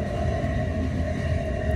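A train rolling along in the video game The Final Station, a steady low rumble with a constant mid-pitched hum, moderately loud and continuous without speech.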